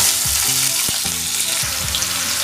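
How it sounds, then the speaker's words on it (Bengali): Potatoes fry in hot oil with tempering spices, a steady bright sizzle close up, broken by a few scraping stirs in the pan and occasional clinks; no one speaks. "ফোড়নটা গরম ভাজা হয়ে গেলে এবার আমি আলুটা এর মধ্যে আগে দিয়ে দেবো ভেজে নেবো ভালো করে"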